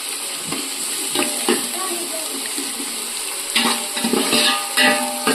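Onions frying in a pan for Chettinad chicken kulambu, a steady sizzle with scraping stir strokes and a few louder clatters, close and moderately loud, no talk.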